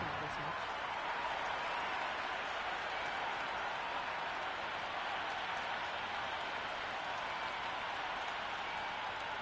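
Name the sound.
crowd cheering in the video game Cricket 26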